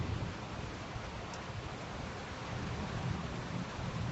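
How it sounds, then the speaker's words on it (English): Nighttime rainstorm with thunder, a dense, steady hiss of rain under a soft, distant low rumble that stays fairly even and faint throughout. "Wow. Thunder. Such a crazy night."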